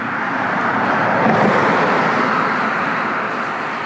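A car passes on a snowy winter road leading out of Elbingerode toward Rübeland in the Harz. Its steady roadway rush swells as it draws near, then slowly fades away.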